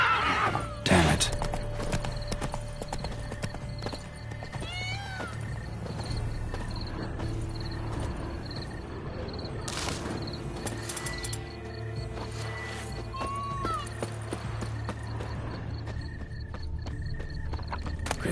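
Horse neighing with hooves clip-clopping in The Witcher 3, set against a steady game ambience with faint bird calls and brief voices.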